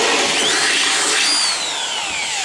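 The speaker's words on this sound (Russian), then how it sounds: "Сейчас отверстие просверлю" A power drill bores a hole through a welded steel bracket on a motorcycle being built, a loud, steady high-pitched whine with a slowly shifting pitch that runs the whole moment without talk.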